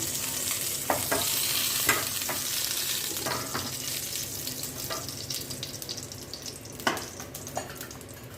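Brinjal sautéing in oil in a pan, a loud continuous sizzle up close with occasional sharp spatula knocks and scrapes breaking through.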